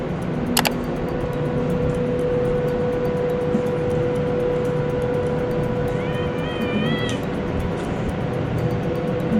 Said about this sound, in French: Là on peut même voir un chat.